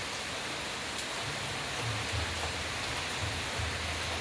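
Heavy, unceasing rain pours steadily as a dense, continuous hiss, with a faint low hum underneath and no voices.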